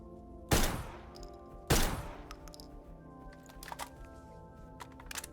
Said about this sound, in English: I should just move closer and use the shotgun now